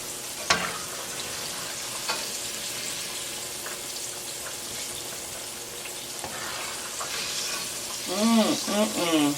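Salmon nuggets and shrimp fry in hot oil with a steady, fairly quiet sizzle. Occasional utensil clinks break in, and a warbling, swooping tone rises near the end.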